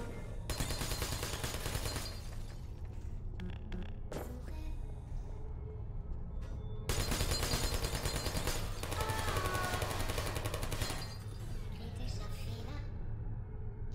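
Rapid automatic turret fire in the video game Portal, loud sustained bursts of gunfire separated by short pauses, with a person talking over it.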